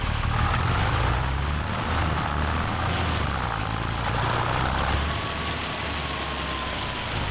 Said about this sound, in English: Go park your tractor in the barn.